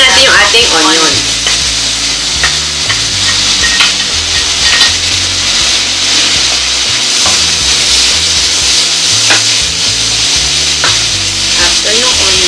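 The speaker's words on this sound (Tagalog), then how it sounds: "So, add na natin yung ating onion." Chopped onion sautéing in a hot pan for Filipino pancit habhab, a loud, steady sizzle with frying crackle and occasional stirring clinks of a utensil against the pan.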